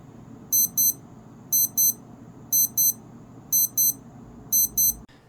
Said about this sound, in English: here's what the alarm sounds like